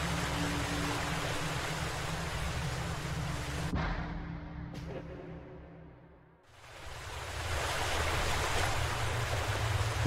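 Loud rushing water of a forest stream in the horror game Blair Witch, a dense continuous roar that cuts out for a couple of seconds midway and then returns at full strength.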